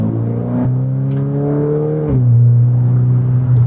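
A modified Volkswagen Golf 8R in race mode on a road, heard from inside with the windows closed: a steady, loud engine drone rising in pitch, then a shift and a deeper, stronger pull.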